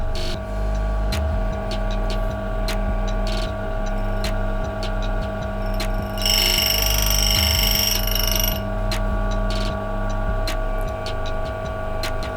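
A DF83 coffee grinder runs steadily with its burrs set near the zero point. Midway a bright, metallic burr-chirping rasp rises over the motor hum for about two seconds, then the hum carries on alone, close and loud.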